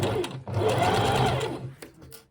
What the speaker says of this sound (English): So I sew from the top just so I can see those seams and keep it really nice and even